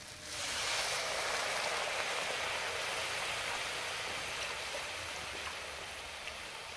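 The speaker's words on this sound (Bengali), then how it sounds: "এখন আমি অল্প জল দিয়ে দেবো" A steady rush of water pouring into a pan of rohu fish curry, loud and continuous, easing off slightly near the end.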